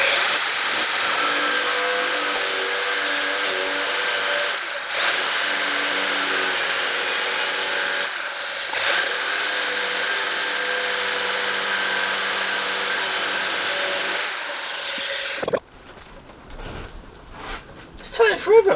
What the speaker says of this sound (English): I keep slipping off this grinder.